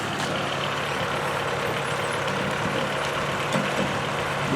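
A John Deere 2750 farm tractor skidding a log uphill, its engine a steady, loud, continuous rumble held at an even pitch throughout, with no talking.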